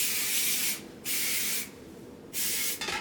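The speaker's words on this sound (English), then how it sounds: "And I'm just going to spray this all over." Sexy Hair hairspray sprays over a head of freshly waved hair in three close, hissing bursts with brief pauses between them, and no one speaks.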